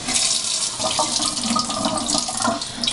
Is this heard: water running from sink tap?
yes